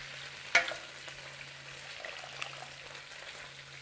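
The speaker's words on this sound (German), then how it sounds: "kann jetzt meine Spaghetti direkt aus dem Topf schön nass zu dem Speck geben." Wet spaghetti straight from the pot tipped onto crispy bacon in a pan on a switched-off stove, giving one sharp burst of sizzle that quickly settles into a soft, steady frying hiss with faint stirring.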